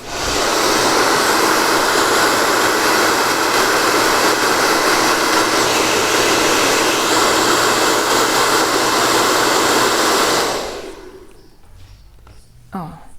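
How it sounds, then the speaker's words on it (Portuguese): A hair dryer blows steadily and loudly at close range to dry fabric paint on a handmade fabric doll, running without a break for about ten seconds before cutting off, with quiet handling afterward. "Novamente, eu vou ligar o secador, tá?"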